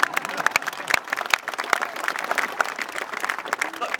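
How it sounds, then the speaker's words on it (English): Applause from a political rally crowd for Ben Sasse, a dense steady patter of many hands with a few sharper claps standing out, moderately loud and continuous throughout. "yeah, that's worth applauding."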